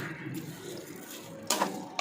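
Water poured into a pot of rice for a vegetable biryani gives a soft, continuous wash of splashing, with a brief louder gush near the end.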